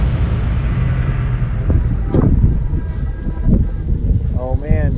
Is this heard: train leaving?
yes